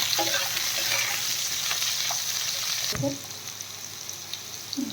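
Potatoes and green chilies frying in hot oil give a steady broadband sizzle with occasional stirring clatter, loud and close, quieting somewhat partway through as the pan settles.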